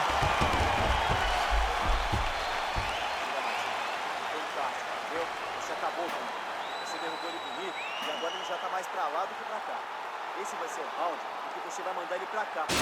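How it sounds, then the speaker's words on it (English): Crowd applause and cheering between rounds of a UFC 5 video game welterweight bout, a broad wash of clapping that is strongest at the start and then fades to a steady murmur under a commentator's talk. "So the crowd voicing its appreciation after that round"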